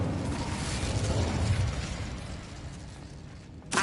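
An Incendio fire spell in Hogwarts Legacy roars out as a rushing, crackling burst of flame with a low rumbling body that slowly fades, ending with a sharp new pop.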